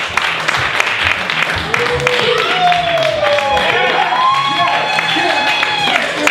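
A live crowd claps and cheers for a performer called Captain Bearclaw: dense, close applause with rising whoops and whistles layered over it, sustained loudly for several seconds.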